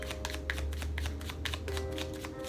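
A small deck of oracle cards is shuffled by hand, a close, quiet run of rapid riffling flutters and soft card slaps repeating in an even rhythm over a low steady hum.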